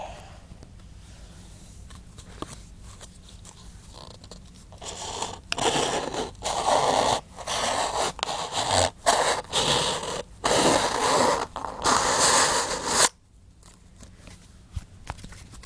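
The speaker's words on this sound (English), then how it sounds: "That is possibly the cleanest cut I've seen with a bayonet in a while." A K98k bayonet, held in one hand, saws through material in a dense run of close scraping and crunching strokes lasting several seconds. The strokes stop abruptly, with quieter rustling before and after.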